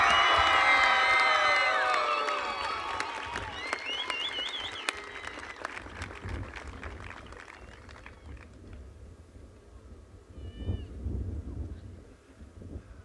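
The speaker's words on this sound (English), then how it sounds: "let's give them one more round of applause" Loud applause and cheering from a high school graduation audience, dense clapping with whoops and whistles at first, then thinning to scattered claps and a brief swell near the end.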